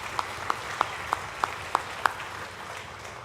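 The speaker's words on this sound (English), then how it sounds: "let's give them a round of applause" An audience at a junior high summer music camp performance applauds the students, a steady wash of clapping with a regular, evenly spaced ticking sound over it.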